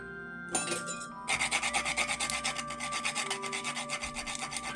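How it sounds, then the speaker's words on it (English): Whole nutmeg grated by hand for a Trinidadian sorrel cake, a close dry rasping in quick regular strokes after a short opening scrape, with no voices. "Then I'm grating in a little nutmeg"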